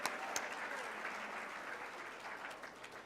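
Brief burst of audience clapping at a political dinner, a moderately distant, steady patter of many hands that fades slightly toward the end, heard on its own.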